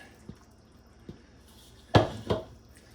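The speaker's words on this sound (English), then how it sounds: "we're going to put the meat that we put aside and all those juices back into the pot" Meat and its juices for beef burgundy go back into a cooking pot, a couple of wet clinks and splashes near the end after a few faint taps, quiet and without talk.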